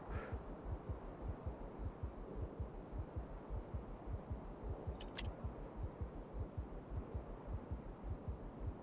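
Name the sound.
low-health heartbeat sound in Factorio video game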